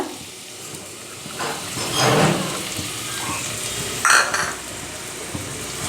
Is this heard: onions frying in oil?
yes